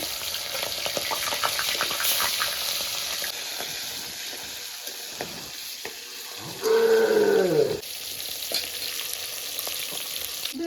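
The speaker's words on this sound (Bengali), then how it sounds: "এটা গরম হয়ে গেছে, এবার মাছের পিসগুলো ভেজে নিচ্ছি।" Fish pieces rubbed with turmeric and salt fry in hot oil with a steady, dense sizzle throughout, interrupted near the end by a brief clear ringing tone before the crackle resumes.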